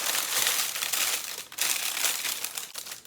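Parchment paper crumpled and crinkled by hand in a home kitchen while lining a baking pan, a continuous close, loud rustling with a brief pause midway.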